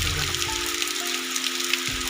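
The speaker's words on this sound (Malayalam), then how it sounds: "മഴ നല്ല രീതിക്ക് പെയ്യാണ്" Heavy rain falls steadily on a forest hiking spot, a dense, even hiss throughout, with a faint low hum underneath.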